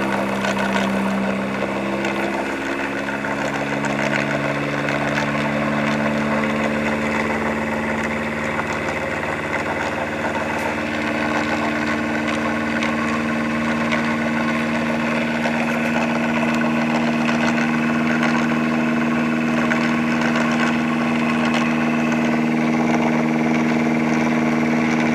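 A pulse motor runs with its generator engaged, giving a steady, close mechanical hum with a constant low drone and light ticking throughout, unbroken and without speech.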